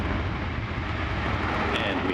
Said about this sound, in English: we have liftoff of Antares